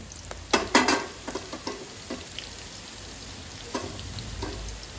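Onions go into hot oil after green chillies in a pan, a burst of loud spatula clatter and scraping at the start that settles into a softer sizzle with occasional stirring taps, no voices.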